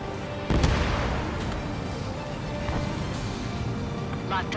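In Ace Combat 7, a missile launches with a sudden loud boom, and a long roaring rumble follows, with fainter bursts and blasts scattered through the continuous jet-engine noise.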